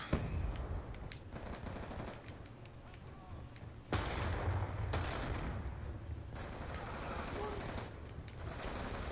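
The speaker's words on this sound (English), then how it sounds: "That guy was shooting at his own teammate." Black Ops 2 multiplayer gunfire: rapid automatic bursts and single shots crackling on and off, with sharp onsets and a steady battlefield din in the background, a voice occasionally speaking over it.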